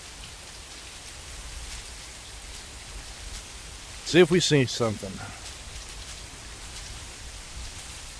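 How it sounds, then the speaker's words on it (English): Steady rain falling in the woods in a VR hunting game, a constant hiss of drops throughout, with someone speaking briefly in the middle. "It's a rainy day."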